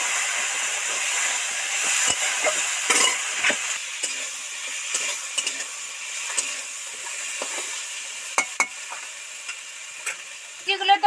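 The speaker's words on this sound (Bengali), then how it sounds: "ভাজা হয়েই গেছে তেল ছেড়ে গেছে" Ivy gourd fried in oil with ginger and radhuni seed paste, a steady soft sizzle broken by occasional sharp scrapes and clinks of a stirring spoon against the pan.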